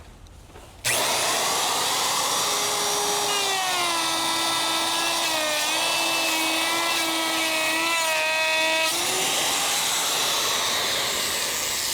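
An electric router cuts a groove in wood, starting abruptly with a loud high whine that drops in pitch as the bit bites into the board, then holds a steady screaming tone under load before easing.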